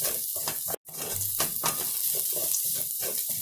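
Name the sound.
peanuts and coconut roasting in a pan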